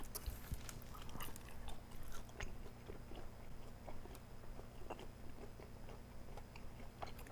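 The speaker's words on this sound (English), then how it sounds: "Let me try a rice cake." Close, soft chewing of a Korean rice cake, with continuous moist, sticky mouth sounds and small crunches throughout and no talking.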